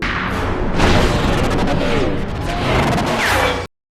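Warning shots fired in a film scene to intimidate, a dense run of booming, crashing gunfire blasts lasting several seconds over a busy, loud action soundtrack.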